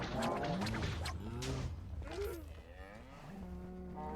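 Hostile cows in Minecraft Dungeons moo several times in quick succession, loud, bending pitch calls over a busy game background, with no talk.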